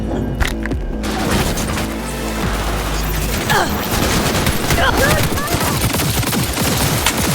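Gunfire in the video game Cyberpunk 2077: a dense, steady stream of sharp shots and bursts across the whole stretch, loud and close, mixed with crashes and a busy game backdrop.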